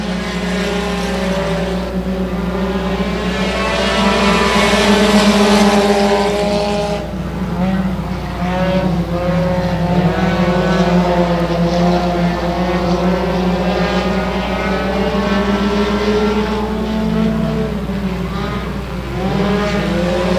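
Race cars roaring around a short oval track at a regular race program, a dense, continuous engine drone that swells and fades as the pack passes, with a commentator talking over it.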